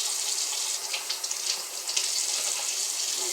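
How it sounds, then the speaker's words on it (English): Water from a kitchen tap runs steadily into a sink while vegetables are rinsed, a continuous close splashing hiss with small fluctuations. "Keep that water running for another minute."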